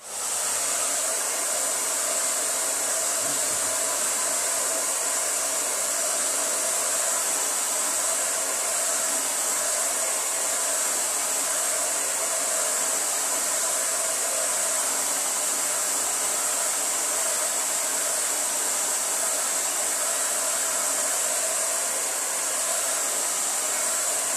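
Hair dryer blowing to dry acrylic paint on a sunset canvas, a continuous, even, loud whooshing hiss running unbroken for the whole stretch, with no talk.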